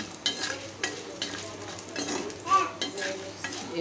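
Food fries in a pan while being stirred until browned: soft sizzling under repeated scraping and clinking of a spoon against the metal, close up, in irregular strokes with brief pauses.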